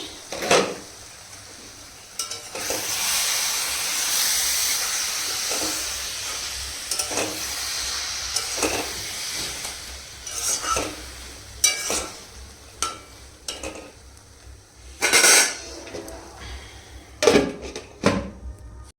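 Cabbage cooking in a pan gives a steady close sizzle and steam hiss, broken by sharp clinks and scrapes of a utensil against the pan that come more often toward the end, with no voices.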